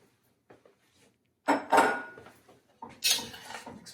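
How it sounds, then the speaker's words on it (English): Frozen broccoli and filling being mixed in a dish, with a few faint clinks, then two louder bursts of scraping and clattering of a utensil against the dish, close and without speech. "Mix all this up."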